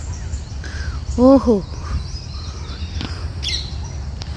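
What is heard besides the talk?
bird calling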